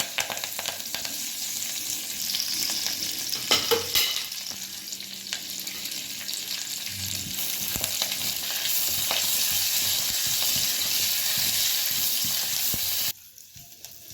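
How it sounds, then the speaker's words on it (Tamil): Curry leaves fry in hot oil with a steady, bright crackling sizzle and occasional stirring scrapes, running continuously before cutting off sharply near the end. "இந்த மாதிரி கருவேப்பிலையை முதல்ல நல்லா ஃப்ரை பண்ணி ஆயிலேருந்து எடுத்து வச்சுக்கலாம்"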